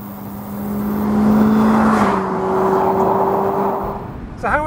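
A Mazda MX-5 Mk4 drives on the open road with a steady engine drone that rises and settles as it changes gear, over wind and tyre noise, loud and continuous with no talking.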